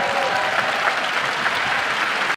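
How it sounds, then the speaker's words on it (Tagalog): Dense applause from a chamber audience during a Philippine Senate session, Senator Risa Hontiveros among those clapping, loud and sustained before cutting off abruptly. "pumapalakpak si Senator Risa Hontiveros"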